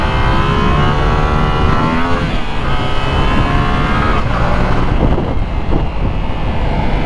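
Yamaha R7 motorcycle engine revving hard, a loud, continuous high-pitched roar with rising and falling pitch sweeps as it accelerates through gears, close and alone.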